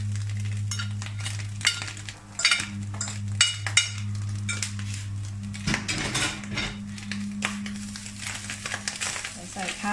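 Butterfly pea flower rice is stir-fried in a pan for shrimp-paste fried rice. Irregular metal scrapes and clanks from the utensil against the pan sound over a low steady hum and a faint sizzle, and someone talks intermittently.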